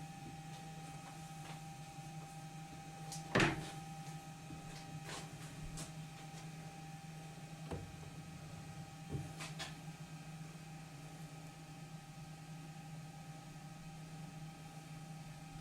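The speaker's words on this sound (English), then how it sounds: "Here I am turning down a portion of this workpiece to 8 millimeters, which is the major diameter for an M8 thread." Metal lathe turning down a steel workpiece to 8 millimetres with a round grooving tool in an interrupted cut, a faint steady machine hum with a few light clicks and one sharper knock.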